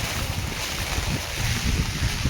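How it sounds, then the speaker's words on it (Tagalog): Strong typhoon wind at 6 a.m. roars steadily against the microphone, a constant heavy rush with an overflowing river's water and waves churning beneath it. "Grabe Lakas ng hangin dito"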